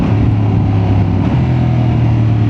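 A Honda Transalp motorcycle with a factory up-and-down quick shifter downshifts while riding, a loud, steady engine drone whose pitch drops abruptly partway through and then holds at the new gear.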